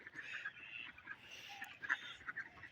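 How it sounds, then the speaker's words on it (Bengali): Ducks by a village pond at morning give a few scattered honking quacks, fairly faint and somewhat distant, over quiet outdoor background with no talking. "এই যে দেখেন হাঁসগুলো খুবই সুন্দর"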